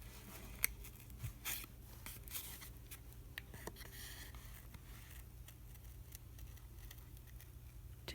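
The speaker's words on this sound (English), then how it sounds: "So I'm just going to cut around my template." Scissors snip through paper around a tag template, producing faint, scattered cutting and crunching sounds over a low, steady background hum.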